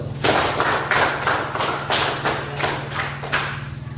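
A secondary school maths class applauds a student group, clapping together in a steady, rhythmic beat of loud, evenly spaced claps that continue throughout.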